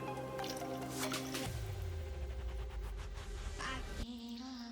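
A can of water poured into tomato sauce for Croatian stuffed peppers, giving a close, steady wet splashing and squishing pour that ends abruptly, with no talk.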